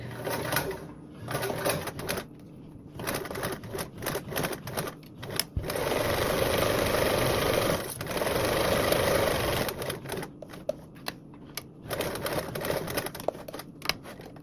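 Sewing machine top stitching a fabric strap for a blanket backpack, rapid steady stitching in several bursts separated by short pauses, close and fairly loud, with no talk.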